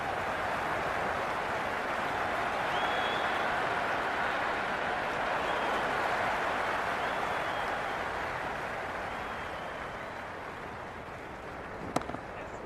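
A cricket crowd in a Pakistan vs England match in the Cricket 26 video game keeps up a dense, sustained roar of applause and cheering that fades slightly toward the end, with one sharp click near the close.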